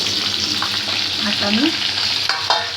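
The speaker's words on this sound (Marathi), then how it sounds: "फोडणी झाली आपली, चांगली तडतडून घेतली." Cumin and green chilies splutter in hot oil in a pan for a festive farali chiwda tempering, a steady close sizzle with scattered pops and crackles while someone speaks briefly over it.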